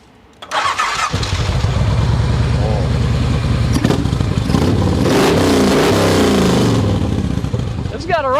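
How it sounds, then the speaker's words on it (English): A Kawasaki Vulcan VN2000 cruiser motorcycle cranks and fires up, then settles into a loud, steady, close rumbling idle with a brief rev, and a voice is heard briefly near the end. "It's got a rumble. Just a bit. That sounds good, and it's not that really lopey sound"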